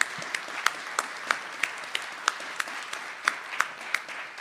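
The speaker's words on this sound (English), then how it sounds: "can we give our panel a round of applause?" An audience applauds a panel at an AI-in-education seminar, with steady, moderately loud clapping and sharper individual claps standing out from the wash.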